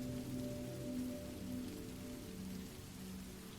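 Steady rain falls on a surface, a continuous soft patter of drops with a low, faint background hum beneath, playing alone without voices.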